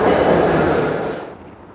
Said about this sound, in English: Downtown 6th train to Astor Place.